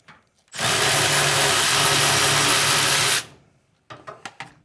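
A power drill spins continuously for about two and a half seconds, loud and close, driving fasteners while changing the casters on a US General Series 3 tool chest, followed by a few short clicking bursts.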